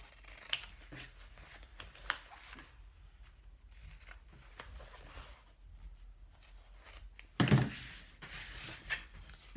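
Scissors trim excess fabric while a crossbody bag is being sewn: a few sharp, separate snips and rustles against a quiet room, with one louder cluster of cutting near the end.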